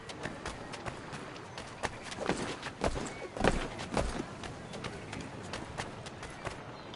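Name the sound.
horse hooves clip-clopping, from a video game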